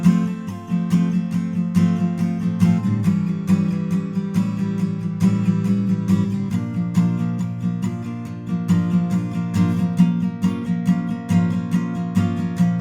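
Guitar strummed in a steady alternating down-up pattern for the easy second verse of a song, with full sustained chords ringing continuously at an even, moderate loudness throughout.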